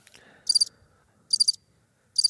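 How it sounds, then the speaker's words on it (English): A cricket chirping sound effect played from a soundboard gives three short, bright trilling bursts spaced about a second apart against near silence. "Is that crickets?"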